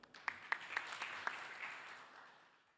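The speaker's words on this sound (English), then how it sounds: "We've had a lot of claps in this session" Scattered applause at a virtual SME summit session: a few distinct claps ring out near the start, then the clapping softens into a faint, fading patter, quiet throughout.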